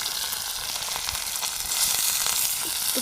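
Capsicum frying in a pan over a hot flame, a steady broadband sizzle that swells louder partway through, with no talk over it.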